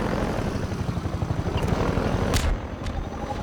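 A helicopter in the video game Half-Life 2 drones with a continuous rotor chop, loud and steady, while sharp gunfire-like bursts punch through briefly near the end.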